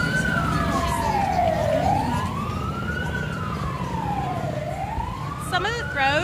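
Emergency vehicle sirens wail in slow rising and falling sweeps during a Mardi Gras parade, loud and continuous over a dense crowd and street rumble, with a second faster-warbling siren joining near the end.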